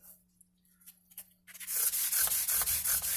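Guitar frets are sanded with 180 grit sandpaper: after a few faint scrapes, a close, loud run of rhythmic back-and-forth rubbing strokes begins and continues to the end.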